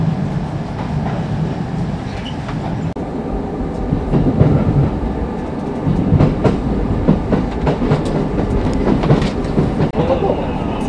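Kintetsu Nagoya Line train heard from on board, nearing Kuwana station and moving slowly, a continuous low rumble with rhythmic clickety-clack of wheels over rail joints.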